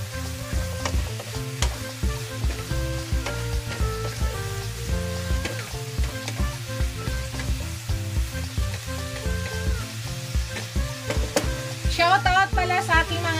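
Onions fry with salmon in a pan, giving a steady, close sizzle with frequent crackles that carries through the whole stretch alongside other louder tonal sounds.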